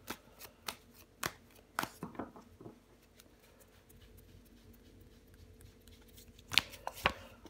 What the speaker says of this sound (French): Je recouvre des cartes.